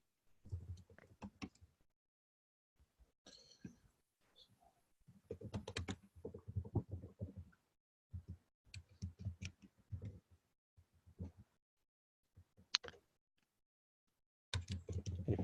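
Typing on a computer keyboard during a quiet pause in an online meeting, with bursts of close clicking keystrokes separated by short silences and no talk.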